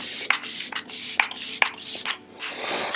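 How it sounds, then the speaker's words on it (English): MAC Fix Plus setting spray misted in four quick pumps, each a bright hissing burst with short gaps between, close by, followed by softer fanning rustle and no talking. "I actually will go in with MAC Fix Plus really quick,"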